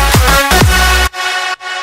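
Unmastered pop or electronic song with punchy low kick hits and sustained harmonic layers, loud and alone, cutting off abruptly partway and resuming quieter.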